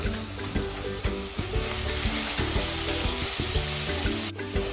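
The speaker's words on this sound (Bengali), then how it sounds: "মশলা কষিয়ে নেওয়া হয়ে গেছে, তোমরা দেখতেই পাচ্ছ তেল ছেড়ে দিয়েছে মশলার গা থেকে।" Spice paste (masala) for vegetarian ghugni fries in oil with a loud, continuous sizzle, punctuated by regular scraping knocks of a spoon stirring the pan, close up.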